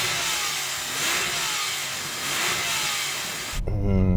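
Sustained loud revving from a 997-generation Porsche 911 Turbo, the engine held high with wavering pitch and a rough, buzzy edge, close by, ending in a sharp shift to a deeper roar.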